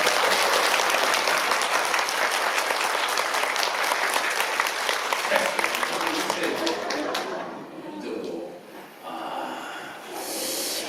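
A Korean church congregation applauds the choir during Sunday worship, loud sustained clapping from a large room that thins out after about seven seconds, leaving scattered claps and murmuring voices.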